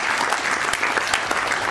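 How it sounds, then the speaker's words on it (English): Loud, dense audience applause at a Teachers Day celebration at Guru Gobind Singh Indraprastha University, a steady wash of many hands clapping together from a close crowd. "big round of applause to all of you"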